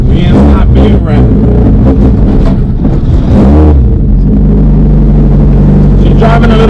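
A turbocharged Honda Civic EK in need of a new spark plug drives with a loud, rough engine drone from inside the cabin, rising and falling with throttle while someone talks over it.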